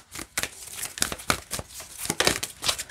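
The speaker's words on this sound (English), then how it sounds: "Shuffle's fine this way too." Tarot cards being shuffled by hand, a quick run of crisp riffling snaps and papery flutters close up, with small pauses between bursts.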